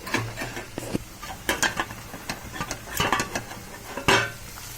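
Spoon stirring brinjal thokku, an eggplant relish, in a pan after coriander is sprinkled on, with irregular scraping clinks and knocks against the metal over a faint sizzle, close up.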